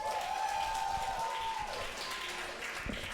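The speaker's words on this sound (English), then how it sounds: "clap if you like the first couple more" Audience clapping at a live dating show event, a steady wash of applause running throughout with some crowd noise and a faint tonal hum over it.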